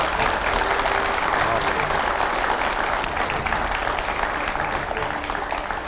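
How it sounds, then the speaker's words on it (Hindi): Loud, sustained audience applause at a live interview event, many hands clapping steadily for about six seconds with crowd noise underneath and no break. "एक बार जोरदार तालियां होनी चाहिए।"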